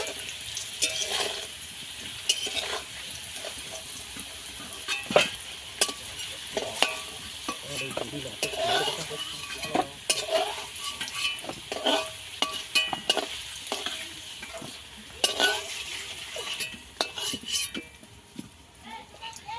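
Potatoes fry to a reddish colour in a pan, crackling and sizzling throughout while a utensil stirs and scrapes with frequent sharp knocks and clatters, and a person speaks at intervals over the cooking.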